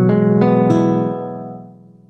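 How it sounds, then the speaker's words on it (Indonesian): A nylon-string guitar, played in a firm flamenco style, gives three plucked strums close up, each ringing warmly and fading into a long soft decay. "kalau senar nylon atau disebut senar nilon itu lebih lembut biasanya"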